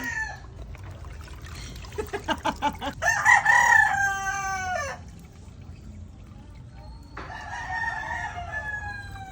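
A chicken squawks and clucks in agitated bursts while water splashes and trickles over it, with a louder flurry of distressed calls in between.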